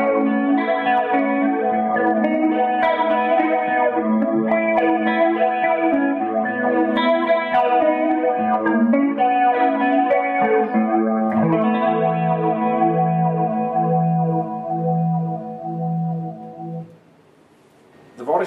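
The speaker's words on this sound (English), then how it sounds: "I'm here to show you the brand new Vortex Flanger pedal." Electric guitar played through a TC Electronic Vortex Flanger pedal, sustained chords and melodic lines swirling with a sweeping flanger effect, loud and continuous, ending with a brief pause and a final note.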